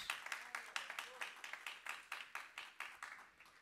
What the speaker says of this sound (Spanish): Dale palmas, dale palmas, dale palmas.